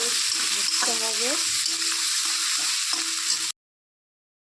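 Onions frying in a pan until reddish brown for a quick chicken curry, a steady close sizzle with a few tonal scraping squeaks, stopping abruptly into silence near the end.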